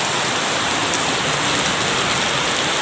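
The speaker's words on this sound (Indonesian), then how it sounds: "Hujan lebat" Heavy rain pours down in a steady, dense roar of drops on surfaces during a lightning storm and power outage, loud and unbroken with no talking.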